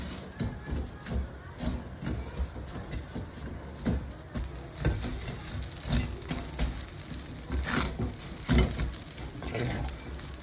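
Kimchi fried rice with sesame oil is stirred in a hot pan, with a steady close sizzle and repeated scraping, tossing strokes of a spatula against the pan running throughout.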